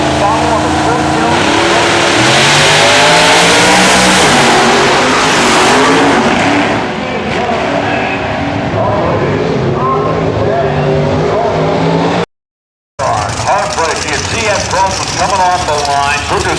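A 762-cubic-inch drag racing car launches off the line at an IHRA finals event in Rockingham, North Carolina, its engine roaring loud and close, revving hard with tire skid, while an announcer talks over it.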